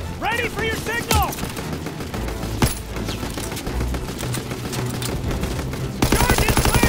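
Heavy machine-gun and rifle fire rattles almost without pause in a Call of Duty WW2 battle at a machine gun nest on Hürtgen Hill, with a loud burst at the end and shouting voices mixed into the din.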